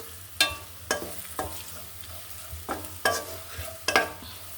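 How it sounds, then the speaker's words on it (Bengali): Ground spices (turmeric, coriander, cumin, dried chilli) sautéing in a pan for a vegetarian lentil dish, a steady low sizzle broken by about seven sharp scraping stirs of a spatula at irregular intervals. "মশলাটা আমি একটু এখানে কষিয়ে নেব"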